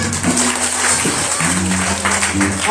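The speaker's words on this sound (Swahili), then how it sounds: "Tuwapigie makofi tena." An audience claps hands in a dense, continuous patter that fills the room, mixed with low sustained tones underneath.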